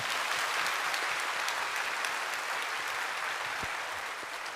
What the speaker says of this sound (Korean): 우리 가족 인사하실 때 우리 박수로 축복해 주시기 바랍니다